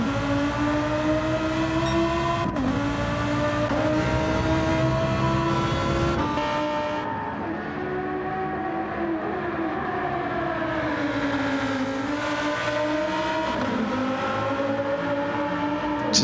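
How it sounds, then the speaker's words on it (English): A race car engine roars at the Watkins Glen 12-hour race, loud and steady throughout. Its pitch dips and climbs through gear changes as the car works through corners. "Just hear that engine roar."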